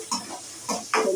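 Onions and chillies frying in a pan, with a spatula stirring in three quick scraping strokes over a close, crackling sizzle.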